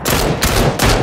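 Rapid bursts of gunfire from PUBG crack loudly in quick succession, two or three dense volleys packed into about a second.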